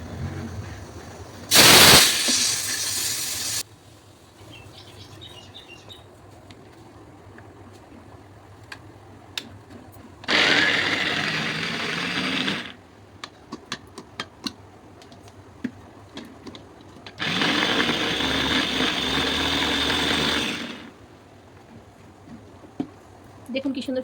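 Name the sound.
onion being chopped in a chopper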